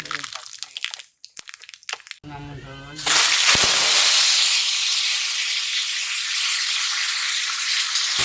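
Seeds dropped into hot oil in a village kitchen burst into a loud, sustained close sizzle and hiss that runs on steadily after some brief talk and clatter.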